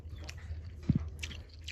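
Someone eats a thin fish curry of hilsa and poa fish, with a brief pair of soft bites and chewing sounds close by over quiet room noise.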